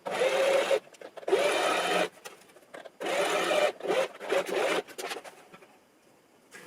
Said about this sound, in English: we're just gonna do a little straight stitch across here